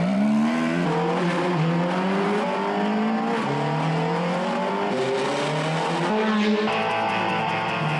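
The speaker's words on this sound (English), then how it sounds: "This Ferrari, this is an incredible car" A Ferrari sports car driving through Monaco, its engine note loud and close with pitch that rises and falls as it revs, continuous for the whole stretch with no talking.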